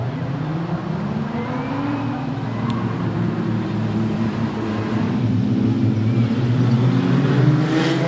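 Production sedan race cars on a dirt speedway rev and accelerate together at a restart, a dense, steady engine roar from the pack that builds slightly louder toward the end, with no talk.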